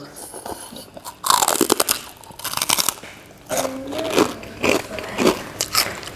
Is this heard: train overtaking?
no